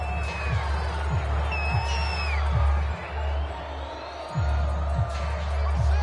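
A stadium crowd roars in a football video game, a dense continuous wash of cheering and whooping with periodic low thumps, while a commentator's voice talks over it.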